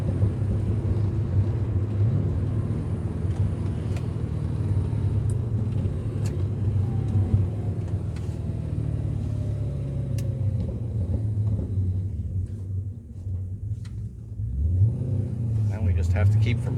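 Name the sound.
Porsche 944 with LS engine swap driving, engine revving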